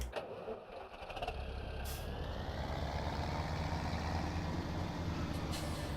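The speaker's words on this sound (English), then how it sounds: "There's a tractor." Tractor engine in Farming Simulator 17 on GoldCrest Valley, a steady low diesel drone after a brief air-brake hiss, rising and holding at a constant moderate level.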